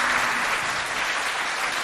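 An audience at a school quiz contest applauds the contestants, giving a short burst of dense, even clapping that stays steady throughout with no voices over it.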